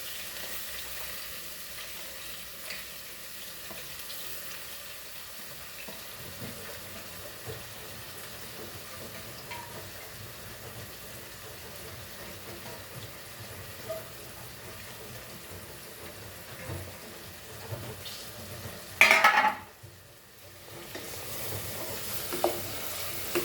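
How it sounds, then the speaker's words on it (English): Crabs fry with chilies and onions in a pan, giving a soft, steady sizzle with occasional stirring scrapes and one brief louder clatter near the end, with no talking. "chilies, and the onions, and fry this all nicely."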